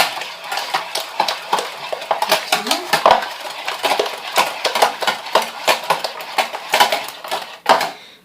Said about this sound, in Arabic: صافي دابا غادي نضربو مزيان هاد الخليط